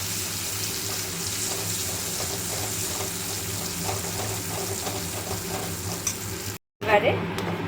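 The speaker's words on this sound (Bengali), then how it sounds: "এবারে এটাকে ভালোভাবে নাড়তে হবে।" Dal mixture stirred in a pan over gentle heat, a steady scraping and swishing that runs continuously and fairly close, with a brief gap near the end before a short burst of clatter.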